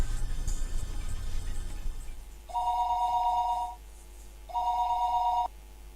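A telephone rings twice in the night while a call goes out to a friend's number, two long even buzzing tones separated by a pause, close and clear after a brief rumble.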